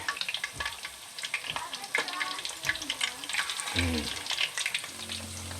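Calamares frying in a pan, a steady crackling sizzle with bursts of spitting oil and occasional stirring clatter, close and moderately quiet.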